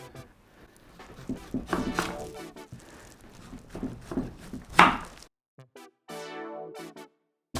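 A knife chopping napa cabbage for kimchi in irregular bursts of quick, close thuds on a board, then a pause, and a short stretch of voice at the end.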